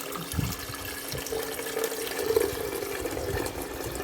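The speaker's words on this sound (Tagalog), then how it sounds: "Lagyan ko muna ng tubig. Lagyan po natin ng tubig." Water runs and splashes steadily into an electric kettle, a continuous close pouring sound with slight gurgling.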